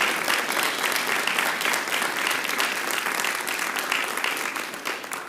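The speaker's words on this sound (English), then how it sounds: "Guys, that deserves a round of applause." A city council meeting audience breaks into a sustained round of applause, dense steady clapping from many hands filling the room for over five seconds before easing slightly at the end.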